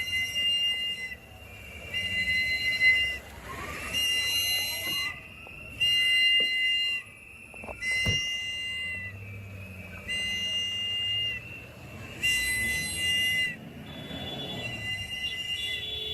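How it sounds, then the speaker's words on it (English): Shrill whistles blow in repeated long blasts at a street checkpoint, some overlapping, amid street noise and a sharp knock partway through. "Man, those whistles, I imagine those guys hear that in their sleep."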